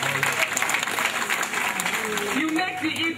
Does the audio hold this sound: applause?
yes